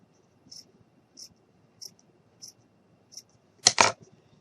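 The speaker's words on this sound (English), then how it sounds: "I'm just going to take my scissors and I'm just going to slice it a little bit." Scissors making small snips into craft material, five soft evenly spaced cuts followed by a louder double crunch, close and quiet against near silence.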